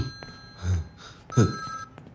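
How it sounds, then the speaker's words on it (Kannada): A telephone bell rings in a Kannada film scene, sounding as two close, fairly loud bursts over a quiet room with no talk. "ಫೋನ್ ಆನ್ಸರ್ ಮಾಡಿ ಸರ್."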